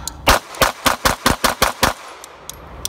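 Nine quick, evenly spaced shots from an Avidity Arms PD10 pistol crack loudly up close in a rapid string, followed by a short quiet tail with faint distant pops.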